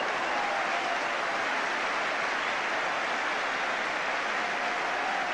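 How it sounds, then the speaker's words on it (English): Steady, broad applause from a distant football stadium crowd after a player's run down the wing in a 1983-84 West Ham United versus Manchester United match, a continuous wash of noise without distinct individual claps. "Applause there for Devonshire."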